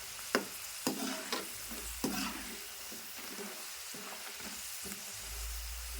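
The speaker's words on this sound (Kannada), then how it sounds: "ನೋಡ್ರಿ ಎಷ್ಟು ಚಂದ ಫ್ರೈ ಆಗುತ್ತೆ ಇವಾಗ" Masala peanuts fry in a pan over a medium gas flame, a soft, steady sizzle punctuated by several sharp stirring clatters and scrapes, fairly quiet and close.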